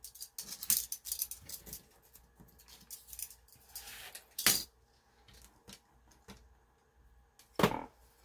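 Scissors snip through paper to trim a rounded edge off a junk journal page: a run of crisp, close cuts with quiet handling in between and sharper, louder snips near the middle and the end.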